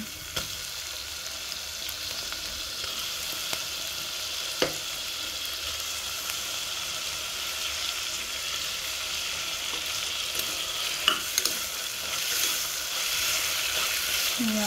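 Tomatoes fry in hot oil for a dry fish and ridge gourd curry, giving a continuous bright sizzle with occasional scraping stirs and small clicks of the spoon, close and steady throughout.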